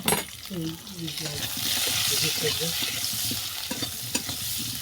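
Kohlrabi and potato pieces frying in a pan until browned, with a steady sizzle and repeated stirring scrapes throughout, moderately close, with faint background music.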